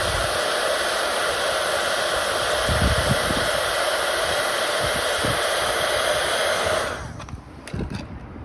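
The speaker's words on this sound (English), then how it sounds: "If you don't use a heat gun, it just comes off in bits." A heat gun blows a loud, steady rushing roar close up while softening the glue on a Peugeot Expert van panel, then cuts off abruptly near the end, leaving quieter handling noises.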